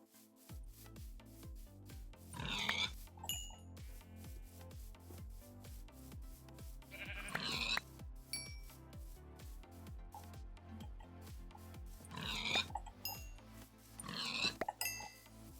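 Pigs oink in the Minecraft video game in a few short grunts spread apart over a steady run of soft, rhythmic rubbing noise, with nobody talking.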